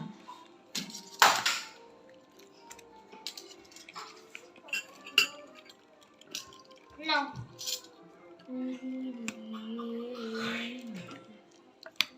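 Spoons clinking and clattering against bowls while chotpoti is served out, with scattered metallic taps and scrapes close by, under a voice speaking at intervals.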